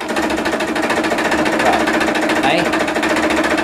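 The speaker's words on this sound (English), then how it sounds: "it runs like a sewing machine, it purrs like a sewing machine" A 100-year-old sewing machine runs in a steady, rapid mechanical whirr with a rhythmic low chatter, loud and close throughout, while a voice briefly speaks over it.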